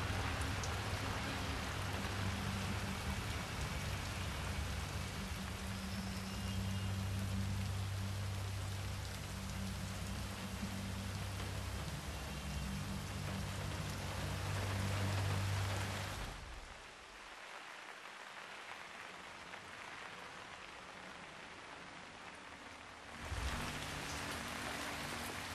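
Steady, dense rain falls continuously in the video game Hitman 3 with a hissing patter, briefly dropping to a quieter wash before returning to full strength.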